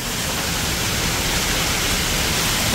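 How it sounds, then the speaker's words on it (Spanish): Hailstorm with strong wind during a thunderstorm in a Havana neighbourhood: a dense, steady roar of pelting ice and gusting air, loud and unbroken throughout, with no voices. "Miren esto, granizo y todo."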